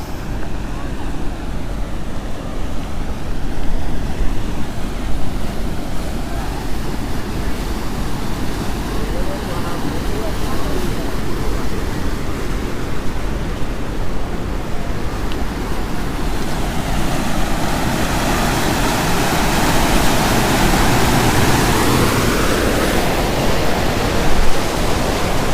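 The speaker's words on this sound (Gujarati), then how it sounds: "તો જુઓ કંઈ આવું પાણી છે અહીંયા તમે જોઈ શકો છો 2-3 ગેટ ખોલેલા છે" Water pours steadily through two or three open gates of a check dam on the Orsang river during the monsoon, a broad, continuous rushing roar close by that holds constant throughout, with no voices over it.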